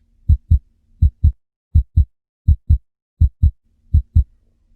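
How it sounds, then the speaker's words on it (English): A human heartbeat thumps in clear paired lub-dub beats at a steady resting pace, loud and close with nothing else around it. "Human heartbeat."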